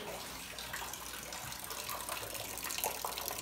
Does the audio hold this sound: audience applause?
no